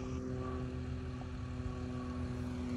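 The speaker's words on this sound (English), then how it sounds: "Plane buzzing over" A propeller airplane passes overhead in a rural farm setting, giving a steady droning hum with a faint engine whine. The sound is continuous and fairly quiet, with no talking.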